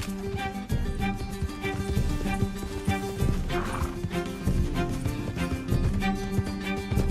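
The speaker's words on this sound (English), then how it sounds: "Can't this horse go any faster?" Horse galloping in Red Dead Redemption 2, rapid hoofbeats pounding in a steady rhythm over game music, with occasional snorts and a brief whinny.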